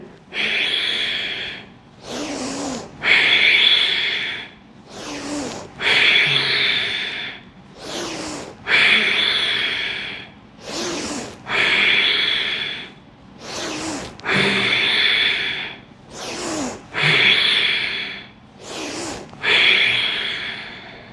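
Ujjayi pranayama breathing during a Tadasana yoga stretch: close, loud, steady cycles of long hissing throat-constricted inhales and exhales, about ten breaths over twenty seconds; no talking.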